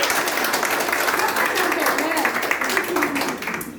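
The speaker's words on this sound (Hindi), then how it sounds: "तो इनको तालियों के साथ हम लोग इनका वेलकम करते हैं।" Applause from an audience at a women's fellowship gathering at a church-run school, welcoming a speaker: dense, even clapping that holds steady throughout and eases slightly at the end.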